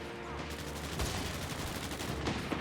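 Gunfire and mortar blasts from Company of Heroes 3, American forces against Fallschirmjäger, heard as a dense, continuous rattle of shots and thuds layered over battle noise with no clear gaps.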